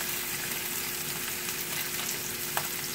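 Salmon fries in a pan, giving a steady close sizzle and crackle with a faint constant hum beneath, holding evenly for a few seconds with no speech.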